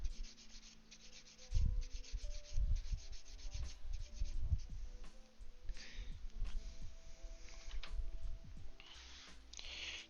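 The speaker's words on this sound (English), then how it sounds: "now we're actually gonna sand that down with a really low grit till it's flat." Low-grit sandpaper rubbed back and forth across a plastic Gundam model part, a close, steady rasping scrape in uneven strokes with small knocks and taps mixed in.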